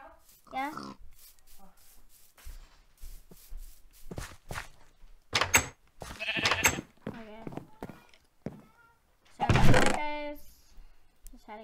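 Sheep bleat several times in Minecraft, mixed with short game thuds and footstep-like knocks, while people talk over much of it; a louder burst of bleating stands out near the end.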